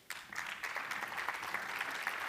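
Audience at a round-table conference on the Gulf of Saint-Tropez breaks into applause, a dense sustained clapping that starts abruptly and holds steady, moderately near and without talk.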